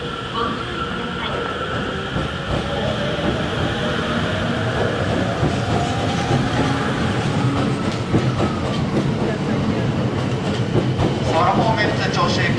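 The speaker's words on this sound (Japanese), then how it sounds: "快速成田空港行きが発車しました" An E257-5000 series rapid train bound for Narita Airport rolls out of Narita Station, wheels clattering and squealing as it gathers speed, with a muffled announcement voice in the background.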